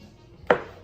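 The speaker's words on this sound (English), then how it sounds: "I will chop these mushrooms up as well in pretty big pieces" One crisp knife chop on a cutting board as mushrooms are cut into big pieces, a single sharp knock in a quiet kitchen.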